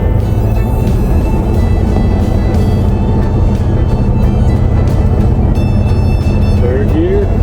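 Old abandoned Chevy squarebody pickup driving with a loud, steady engine drone, revving as it shifts into third gear, with road and wind noise throughout.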